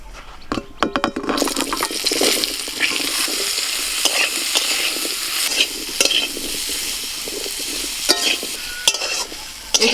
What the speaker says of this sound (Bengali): ওই একই তেলের মধ্যে আমি এঁচড়গুলোকেও ভেজে নেব।